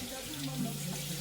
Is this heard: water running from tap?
yes